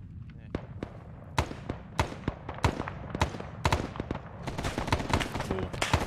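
Gunfire in the Arma 3 video game, set in Vietnam: scattered sharp rifle shots and quick bursts crack irregularly, growing denser toward the end, with game ambience underneath.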